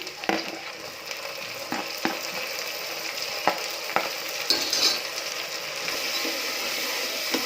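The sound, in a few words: onion and tomato frying in oil and ghee for kushka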